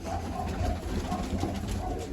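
Pigeons coo steadily at close range, a soft continuous murmur from a flock with no voices, after their owner treats injured birds with medicine mixed into chickpea feed.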